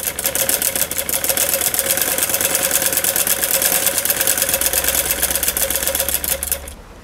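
A sewing machine runs a straight stitch along a mohri (trouser cuff) design, its needle ticking in a rapid, even stream for about seven seconds before the motor winds down at the end.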